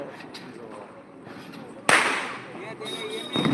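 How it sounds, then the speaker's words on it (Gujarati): Firecrackers set off by children go off with a sharp, loud crack partway through and a second burst near the end, over a steady outdoor background with voices. "ફટાકડા પડી રહ્યા છે બધા અહીંયા જો હજી પણ ફટાકડા"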